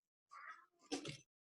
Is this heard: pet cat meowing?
yes